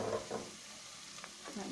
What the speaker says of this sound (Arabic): نحط طماطم المصبره ملعقه كبيره، يعني طماطم مصبره، ونحلها في الزيت تاعنا